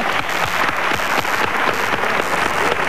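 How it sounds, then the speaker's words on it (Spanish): Studio audience applause on the Spanish TVE1 television programme Tiempo al Tiempo: dense, sustained clapping from many hands that fills the scene at an even, loud level for the whole stretch, with no talk over it. "le doy un aplauso para todos ellos"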